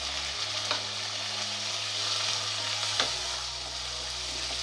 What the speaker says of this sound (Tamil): இப்போ நம்ம நறுக்கி வச்ச தக்காளி சேர்த்துக்கணும்.